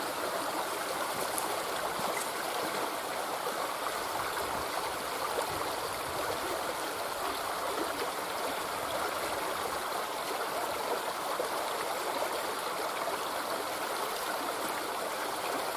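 A mountain stream rushes and gurgles steadily as a bottle is filled in the current, a continuous close water wash with no voices.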